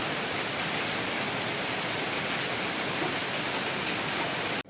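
Light drizzle falling outdoors, a steady even hiss of rain that holds constant throughout before cutting off abruptly at the end.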